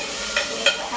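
Ginger garlic paste frying in a pan, a low steady sizzle broken by two brief scraping stirs.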